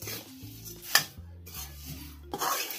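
A spoon scrapes and rubs through pohe chiwda with turmeric, coconut and peanuts in a pan, in short irregular strokes with a few clinks, close up and with no talking.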